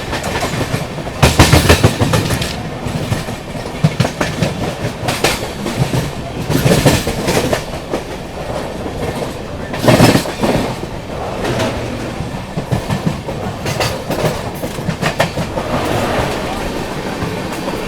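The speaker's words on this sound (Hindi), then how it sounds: "ट्रैक साउंड आ रहा है यार" Wheels of the 12615 Grand Trunk Express clatter loudly on the rails in a steady rolling rhythm, heard from inside the moving train with repeated clickety-clack bursts over a constant rumble.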